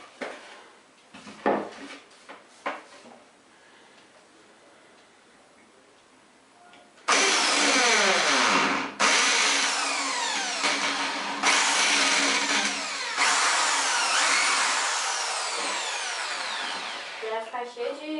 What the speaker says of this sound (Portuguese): Não precisa furar muito, só um pouquinho,